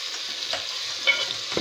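Chicken with ginger and garlic fries in a pan, giving a steady close hiss with soft scrapes and a couple of brief clinks, and no voices.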